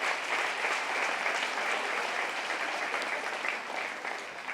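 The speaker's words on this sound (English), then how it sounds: "Give her a nice round of applause." Steady applause ripples through the crowd at a county fair beef show for a young fourth-place exhibitor, many hands clapping evenly for several seconds before tapering slightly.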